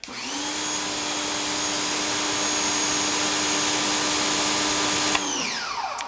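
A HART 1800psi electric pressure washer runs steadily and loudly at close range, its motor whine holding level for about five seconds before it shuts off and spins down. No one speaks.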